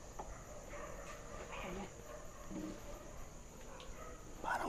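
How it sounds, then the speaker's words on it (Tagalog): Several dogs bark and yip in the distance, faint and intermittent over a low background hum, with quiet voices now and then. "Tahulan yung mga aso, bro. Nagtatahulan."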